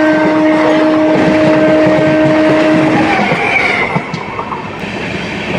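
A general-class coach on a Maha Kumbh special train out of Narsapur, bound for Varanasi, rumbles steadily along the rails, with loud continuous rolling noise and sustained whining tones that fade partway through.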